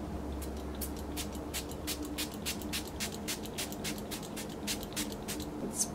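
Quick, sharp hissing bursts from a mini makeup spray bottle, about a dozen short pumps in an uneven rhythm, close and fairly quiet.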